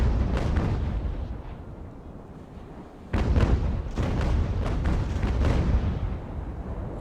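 Broadside of cannon fire from an enemy sailing ship's port side in the naval game Ultimate Admiral: Age of Sail, with a rapid string of heavy booms that rumble on and is renewed by a second loud volley midway.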